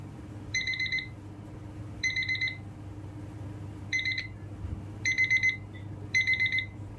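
Fire-Boltt Sphere calling smartwatch sounding its find-my-device alarm: short bursts of bright electronic beeping repeated in roughly one-second clusters, clear and near, over a low background hum.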